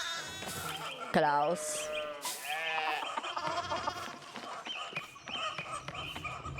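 Sheep bleating in the video game Pentiment: several wavering, nasal bleats overlap close by over a soft ambient bed, and a voice briefly speaks between them.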